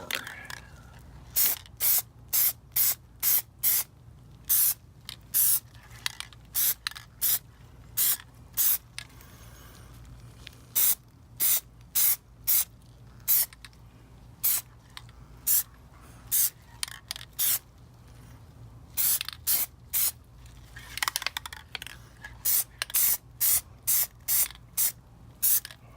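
Plasti Dip aerosol spray coating a Toyota Prius wheel center cap: a long run of short, close hissing bursts in quick repeated rhythm, with brief pauses between groups and no talking.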